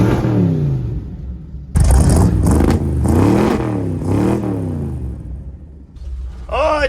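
A long-abandoned 1970 Dodge D200 pickup engine cranks and catches, then revs loudly and unevenly in rising and falling surges close by, with a brief second burst near the end.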